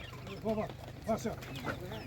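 A few short clucks from chickens close by at an animal exhibition in Kolomyia, Ukraine, two or three brief bursts over a low background hum.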